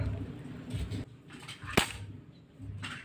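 An air gun is test-fired once, giving a single sharp, close crack partway through over a low background rustle.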